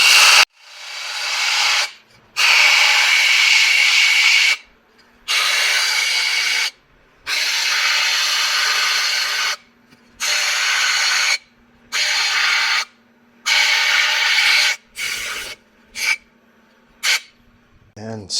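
A wood workpiece is sanded on a spinning power tool at 1100 RPM, starting with 220 grit, in loud hissing bursts a few seconds long separated by short silences, about nine passes in all.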